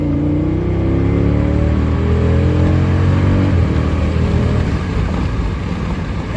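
A 2014 Jeep Grand Cherokee SRT engine with its eight-speed automatic revs up loud and close, the exhaust drone climbing in pitch over several seconds before settling into a steady heavy roar, with no one speaking.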